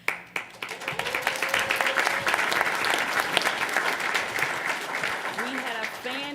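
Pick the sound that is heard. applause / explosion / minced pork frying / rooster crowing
applause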